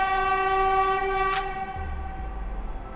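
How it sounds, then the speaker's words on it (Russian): A train horn sounds on Novodmitrovskaya street in Moscow, a loud sustained multi-tone blast heard up close for about a second and a half before fading, with a low rumble of the rail traffic continuing underneath. "Гудок. Это фирменный знак, если ты находишься на Новодмитровской улице."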